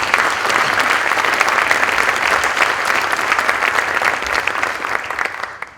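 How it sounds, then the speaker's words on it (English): A large convocation crowd bursts into loud, dense applause, a sustained wash of clapping that holds steady before tapering off at the end. "So let's give a round of applause for that."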